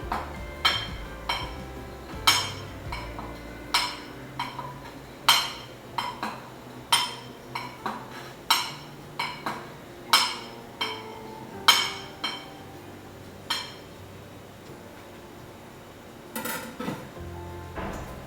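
A knife cuts through brown sugar ice jelly bingfen in a dish, tapping the dish with about a dozen sharp, evenly spaced clicks, then a short pause and a couple of final taps, close and clear.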